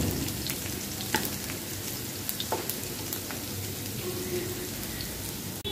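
Chopped garlic, about two tablespoons, fries in hot oil with a dense, continuous crackling sizzle like rain on a surface. Small pops spatter throughout, close and steady, with no talk.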